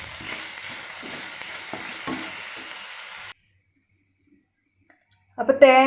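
Grated coconut, about one cup, sizzling and frying in a pan for a Malabar elanchi filling, a steady hiss with stirring scrapes that stops abruptly midway, followed by silence and then a short burst of voice.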